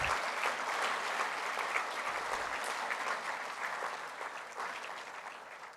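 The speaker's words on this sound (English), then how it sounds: "So one last round of applause for our wonderful sponsors." Audience applause at an EcoCAR EV Challenge awards ceremony, a steady, dense clapping from a large crowd that holds evenly for the whole stretch and tapers slightly toward the end.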